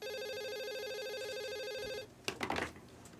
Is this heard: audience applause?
no